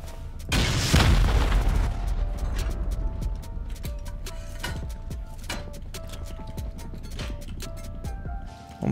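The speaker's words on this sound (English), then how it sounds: "Let's send a rocket here and blow these up." Rocket blast in a video game blowing open locked boxes: one heavy boom with a deep rumble, followed by a scatter of sharp crackling pops and debris clicks as it fades.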